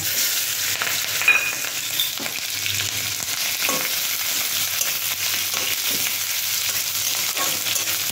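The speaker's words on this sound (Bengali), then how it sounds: "এটাকে আমি ভেজে নেব, এটাকে লাল লাল করে পেঁয়াজটাকে লাল লাল করে ভেজে নেব" Onion and green chilli frying in hot oil with five-spice and bay leaves, a steady bright sizzle with occasional stirring scrapes, close and continuous with no voices.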